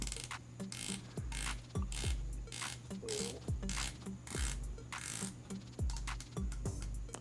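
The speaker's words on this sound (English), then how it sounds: "Bezel action on here is actually very good as well." Zodiac Super Sea Wolf bronze dive watch bezel turned by hand, giving a quick run of small, crisp ratcheting clicks in uneven bursts, very close and quiet.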